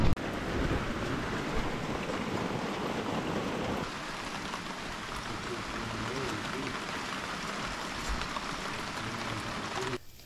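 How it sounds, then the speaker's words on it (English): Steady rainstorm on a New Brunswick homestead, a dense continuous wash of falling rain close by, fairly loud throughout with a slight drop in intensity partway through and no voices. "That rainstorm turned into a snowstorm, hopefully the last of the season."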